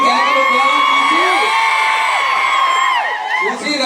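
Crowd at a film trailer event for an action movie, cheering, whooping and shouting continuously with high-pitched yells, loud and dense throughout and thinning slightly near the end.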